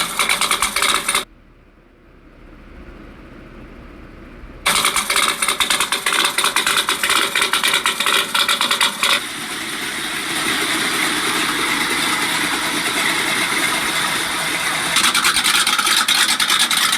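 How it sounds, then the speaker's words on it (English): A Ford Bronco with a 545 cubic inch big block rumbles loudly through its exhaust, a gritty, pulsing idle that drops away briefly to a muffled lull, then returns and swells into a steadier, heavier drone. "I have two Broncos with 545 cubic inch big blocks"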